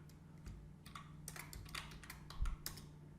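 Fast typing on a computer keyboard while writing code: a quiet, close run of light clicking keystrokes in uneven bursts over a low hum, with no talking.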